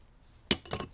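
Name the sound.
stacking steel and friction clutch plates in a differential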